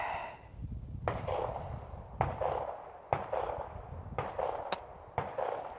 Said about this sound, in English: I'm going to break off 10 shots